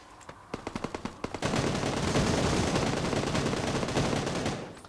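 Rifle fire in PUBG New State Mobile: several single shots crack out, then a sustained rapid automatic burst rattles on loudly and close for several seconds before stopping.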